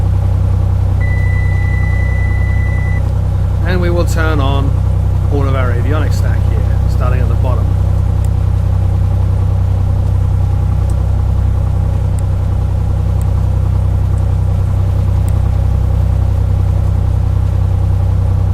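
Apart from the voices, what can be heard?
Cessna 182 Skylane engine idling in A2A Accu-Sim flight simulator video game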